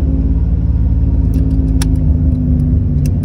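A 2000 Camaro with a 3.8-liter V6, fresh spark plugs and wires, cruising slowly in first gear: a steady, smooth low engine drone fills the cabin throughout, with a few faint jingling clicks on top.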